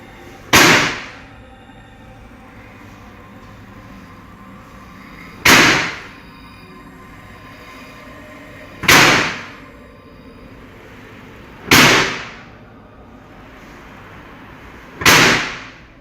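A door slams shut on its own again and again inside a house, five sharp, loud bangs spaced a few seconds apart, each with a short reverberant tail over quiet background hiss.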